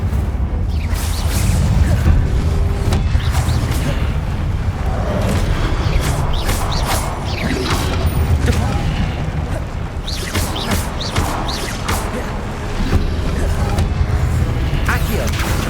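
Incendio fire spell cast repeatedly in Hogwarts Legacy combat, loud whooshing bursts and booms piling up over a dense rumbling battle bed, with a voice calling out spells over it.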